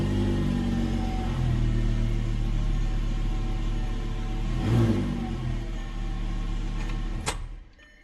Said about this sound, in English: I will start back up my car